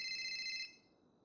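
A phone ringtone for an incoming call plays as a loud, steady electronic tone for about half a second, then cuts off, leaving quiet room noise.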